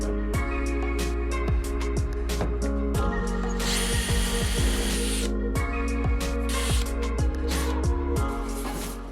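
A power drill bores dowel holes into walnut wood for desk leg joints, whining in repeated short bursts that rise and fall in pitch, loud and close with brief pauses between holes.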